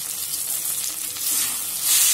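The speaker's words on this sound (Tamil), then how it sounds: "பாருங்க தக்காளி நல்லா வதங்கிருச்சுங்க" Tomatoes with salt fry in a pan for a fish curry, a bright, continuous sizzle that swells slightly near the end, close and steady, with no talking over it.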